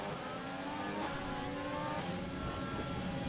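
A Formula 1 car engine screams at high revs on a long straight in the racing game F1 2020, a dense continuous roar held loud and close throughout.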